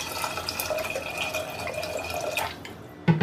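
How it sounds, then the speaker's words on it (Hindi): Water is poured into a pressure cooker to wash toor dal, a steady close trickle and splash that eases off. A louder clunk comes at the end. "पानी डाल के इसे 3 बार धो लेते हैं।"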